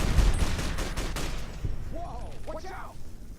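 A rapid volley of gunshots from a gun in the video game Fallout New Vegas cracks loudly for about a second and a half, then someone talks over the fading echo.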